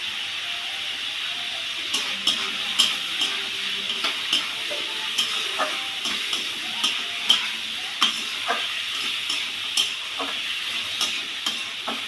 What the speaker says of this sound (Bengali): নাড়াচাড়া করে নিয়ে আমি এবার ঢাকা দিয়ে দেবো।